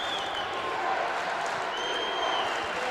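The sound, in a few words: football crowd cheering excitedly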